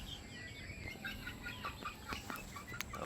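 Native chickens and chicks in a simple breeding pen, soft clucks and faint high peeps scattered over a steady farmyard background, close but quiet.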